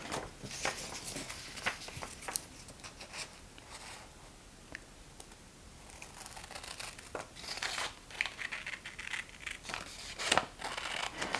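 Scissors cutting through paper for a junk journal flip book, with quiet snips and crisp rustling, close and soft, in uneven bursts with no talking.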